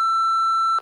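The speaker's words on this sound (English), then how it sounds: "I get to edit them and put in a beep, and that's the answering machine sound." A single steady pure-tone censor beep, the answering machine sound effect from iMovie or Final Cut Pro, loud and unbroken for under a second before cutting off.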